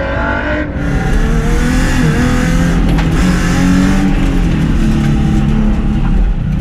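A car engine revs hard and continuously at full throttle in a low gear during a race run, loud and close throughout with a strained, high-revving drone.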